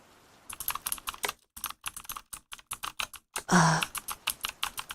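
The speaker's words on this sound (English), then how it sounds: "You guys get to hear the disgusting, mushy blue switches." Fingers type quickly on a mechanical keyboard with blue switches, producing close, crisp clicking keystrokes in bursts. One slightly longer, louder press lands partway through, and there are brief gaps between runs of keys.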